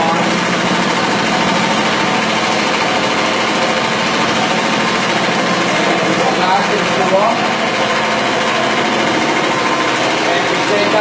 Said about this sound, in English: the agitation from the machine agitates the carpets upside down and beats out the grounded dirt that's been there for any number of years